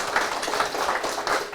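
A conference audience applauds a talk, with brief, dense, moderately loud clapping from many hands in a hall, lasting under two seconds.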